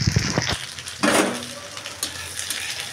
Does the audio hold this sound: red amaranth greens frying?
yes